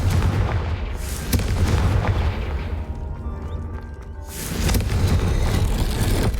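A Confringo blasting spell goes off in the Hogwarts Legacy video game, a loud booming burst with rumbling layered effects. It drops into a brief quieter lull, then the heavy rumble swells back up.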